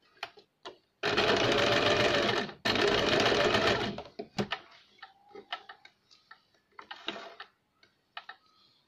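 Sewing machine stitching a thin cord, running in two loud continuous bursts of about a second and a half each with a brief pause between, followed by scattered soft clicks and handling taps.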